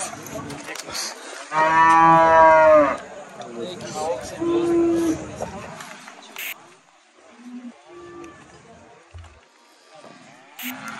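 Cattle moo at a busy livestock market, one long loud low call followed by shorter bellows, with people talking and bargaining around them.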